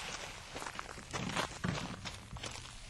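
Recorded footsteps of several people walking by, a faint, quiet patter of irregular steps on a hard surface with no voices.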